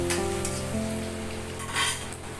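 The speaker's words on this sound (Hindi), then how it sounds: "अदरक, लहसुन, हरा मिर्चा उसको क्रश किया हुआ था उसको डाल दिया है मैंने। भून लेते हैं।" Crushed ginger, garlic and green chilli with cumin and asafoetida fry in hot oil, giving a soft continuous sizzle with brief louder crackles, close and fairly quiet.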